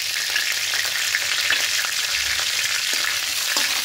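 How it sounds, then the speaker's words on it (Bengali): Two bay leaves, radhuni seeds and crushed fennel seeds fry in hot oil, giving a continuous close sizzle dotted with small crackles and pops, with no talk. "এবার তেলে দেব রাঁধুনি ফোড়ন,"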